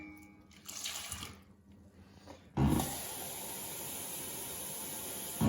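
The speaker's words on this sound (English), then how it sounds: "now I need to add 3 cans of water" Water splashes and pours steadily into a glass of orange juice concentrate after a few soft handling sounds, a continuous close hiss ending in a small clink.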